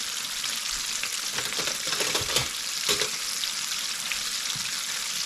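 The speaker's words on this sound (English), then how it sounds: "pieces that are frying" Southern fried chicken pieces fry in hot oil, a loud continuous crackling sizzle close by with occasional stronger pops and spatters throughout.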